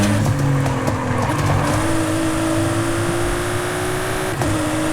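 A Nissan Fairlady 350Z drifts with a loud, close engine and a sustained high tire squeal that shifts in pitch as the slide goes on.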